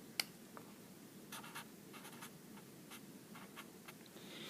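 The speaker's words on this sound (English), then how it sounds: "So we write that down." Pen or pencil scratches faintly on paper while notes are written by hand, a series of short, soft, irregular strokes in a quiet room with no talking.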